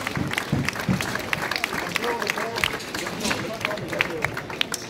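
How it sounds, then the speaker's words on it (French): Crowd applause at a cycling race finish ceremony in Dunkerque, spectators clapping in scattered, moderately loud bursts mixed with murmured crowd noise and some talk nearby. "vous pouvez les applaudir une nouvelle fois"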